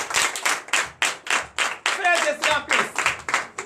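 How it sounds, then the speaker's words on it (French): A congregation in church applauding loudly, rhythmic bursts of clapping in a quick regular beat, close and strong throughout, with voices underneath. "que je vous demande d'applaudir très très fort."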